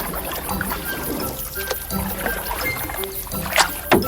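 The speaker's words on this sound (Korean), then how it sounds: "그의 아내와 아이들이 보트를 타고 돌아오지 뭐예요" A rowboat moving across water, with soft splashing and trickling of oars and hull, close and fairly loud, punctuated by a couple of sharper splashes near the end.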